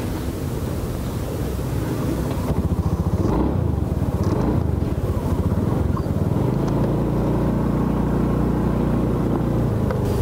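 A 2014 Honda BeAT Pop eSP scooter engine idles close by, then revs up into a steady, buzzy drone with a low rhythmic pulse that holds for the rest of the stretch.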